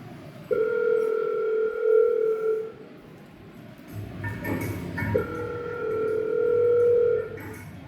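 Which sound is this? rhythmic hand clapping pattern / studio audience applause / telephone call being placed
telephone call being placed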